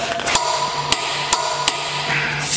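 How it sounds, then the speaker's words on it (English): An air impact wrench works on a lug nut torqued to 200 foot-pounds, giving a few loud, hard hammering knocks over a steady whine. "All right, once again, first up, our air wrench."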